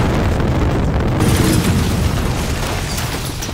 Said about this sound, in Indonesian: seketika ledakan pun terjadi menewaskan semua orang di sana